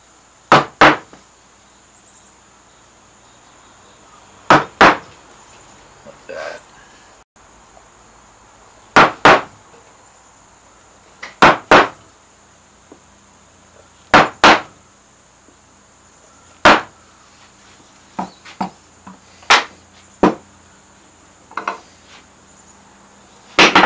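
Sharp, distinct strikes of a very shallow carving gouge on wood, arriving in pairs and small clusters every few seconds with quiet pauses between, close and clear.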